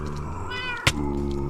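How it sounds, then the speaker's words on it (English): A Minecraft cat meows once in a short, close, clear call, with a brief sharp click near its end and steady game background underneath. "Bad kitty."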